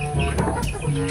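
A chicken clucks briefly at close range, a quick burst of short, throaty notes.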